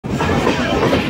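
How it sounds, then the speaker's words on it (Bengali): Train rolling into Kolkata station on the Chakra Rail circular line, a steady loud rumble with rhythmic clatter of wheels on track, close and continuous throughout. "ঢুকে গেল আমাদের কলকাতা স্টেশন।"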